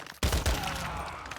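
A suppressed-sounding gun fires in MW2 DMZ, giving a sudden loud burst of several rapid, close shots that trails off into a ringing, fading tail.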